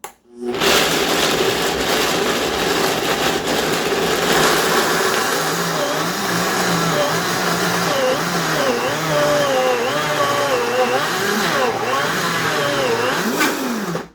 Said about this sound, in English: we're going to start the Vitamix on 1, and we're going to turn it right up to high